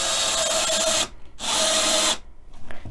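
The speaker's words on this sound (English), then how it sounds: "start drilling" A cordless power drill whirs into wood in two close, loud bursts, briefly stopping between them, then falls quiet with faint handling noise.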